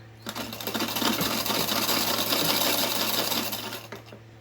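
Electric sewing machine running steadily as it stitches a fabric dish towel, a close, continuous whirring drone with a fast needle rhythm, starting just after the opening and stopping near the end, with no talk.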